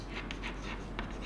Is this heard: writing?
yes